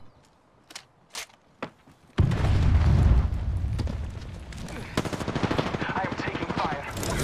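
Automatic gunfire in the Apex Legends battle royale game, rapid bursts after a few sparse shots, loud and continuous with scattered impacts and footsteps, with no talk.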